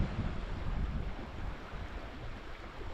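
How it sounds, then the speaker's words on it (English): Wind blows at an outdoor river, buffeting the microphone with a loud, rushing, gusty rumble that swells and eases. There is no speech. "the wind is blowing today."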